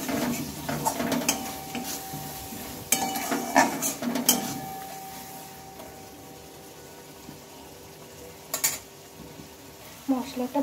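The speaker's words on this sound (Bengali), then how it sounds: "তো টমেটোটা দিয়ে আরও কিছুক্ষণ মশলাটা আমি ভালোভাবে কষিয়ে নেব।" Spice masala with chopped tomato is stir-fried in a pan, heard as intermittent scraping and clattering of a spoon against the pan in short bursts, with a quieter stretch in between and a few more clanks at the end.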